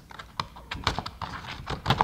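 Paper is cut for crafting small advent calendar boxes, a quick series of crisp snipping and rustling strokes close by, with no talking.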